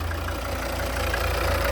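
A 2013 Volvo V60 D3 with a 2.0-litre five-cylinder diesel idles quietly under an open bonnet, a low, even rumble running steadily throughout.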